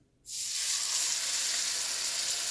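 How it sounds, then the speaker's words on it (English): Salmon searing in butter in a hot frying pan gives a loud, steady sizzle that bursts in after a brief quiet moment and holds constant, close and alone with no talk. "so our pan's hot. We're going to go ahead and get our salmon in there. I want to get a good sear"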